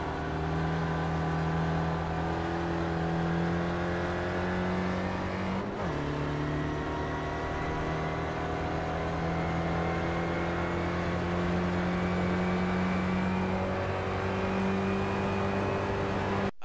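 An SRF race car in iRacing at Brands Hatch holds a steady, loud engine drone in fourth gear down the straight, with one brief dip in pitch partway through before settling back to the same high, constant hum.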